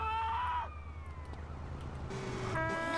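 A wailing ambulance siren in the video game GTA San Andreas rises and falls over a steady low engine rumble, cutting out briefly and then returning loud and close.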